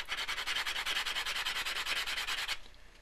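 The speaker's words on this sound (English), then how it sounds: "Take a sanding block, take your battery, and just rough it up on the bottoms like that" Steady rapid rubbing of a sanding block roughing up the ends of a battery, about two strokes per tenth of a second for over two seconds, close and loud, then it stops abruptly.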